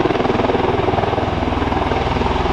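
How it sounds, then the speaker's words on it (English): A US Air Force CV-22 Osprey tiltrotor flies a demonstration at the 2007 Dayton airshow, its rotors producing a loud, steady rhythmic thudding drone close by. "The XV-15 tilt rotor became the airplane that you see here today, representing your United States Air Force."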